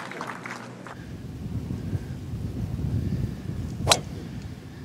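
Low, rumbling wind buffets the microphone on an open golf course at a professional tournament, a steady roar throughout with a sharp swish near the end, and no talking.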